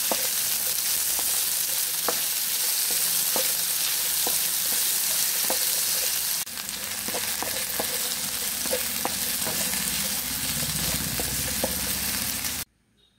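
Potatoes and carrots frying in hot oil for a pork giniling dish, a steady loud sizzle throughout with scattered crackles and pops, cutting off abruptly at the end.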